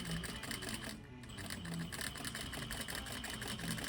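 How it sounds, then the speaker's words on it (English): Sewing machine running steadily on fabric, a fairly quiet, even mechanical whirr with rapid stitching rhythm and no talk, close by. "I'm doing a little bit of taut sewing just to keep any loose fabric in place."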